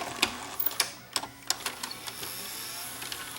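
A Mitsubishi HSU 65 VCR threads a tape with a quick run of small mechanical clicks and ticks that gives way to a low, steady motor whir, close by and fairly quiet.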